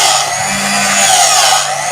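An electric hand mixer beats creamy lemon frosting with a steady, close, whirring motor hum that holds constant for the full two seconds, with no voices.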